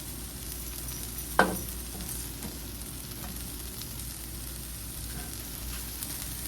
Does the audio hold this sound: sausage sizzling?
yes